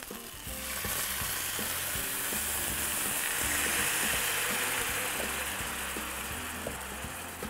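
Beef searing in a pan as wine is poured in and begins to reduce, a loud, steady, close sizzle and bubbling hiss that swells slightly and holds throughout, with no talking.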